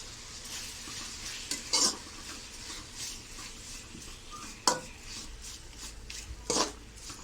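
Tomatoes with salt softening in a pan while being stirred, a steady low sizzle broken by several scraping strokes of a spoon against the pan, close and moderately quiet.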